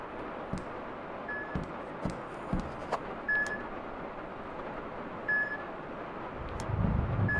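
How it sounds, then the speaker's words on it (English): Several short, faint electronic beeps spaced irregularly over quiet background noise in the indie horror game Amygdala: Prelude, with a few soft thumps and a low rumble near the end. "I hear a beeping."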